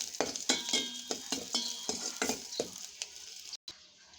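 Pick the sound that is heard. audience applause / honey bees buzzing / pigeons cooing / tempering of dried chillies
tempering of dried chillies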